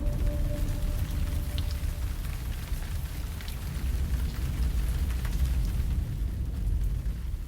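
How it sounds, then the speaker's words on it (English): Monsoon rain showers falling in a village setting, a dense, continuous rumbling wash of rain with no voices. "Eventually, the sweltering heat gives way to the monsoon showers."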